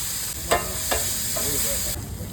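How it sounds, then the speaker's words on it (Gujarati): Onion and gathiya curry cooks in oil at a long-running shaak-rotla eatery in Bhavnagar: a loud, close, steady sizzle with a couple of sharp metallic taps from a ladle. "અહીંયા ડુંગળી ગાંઠિયાનું શાક બની રહ્યું છે"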